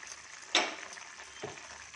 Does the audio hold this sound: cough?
no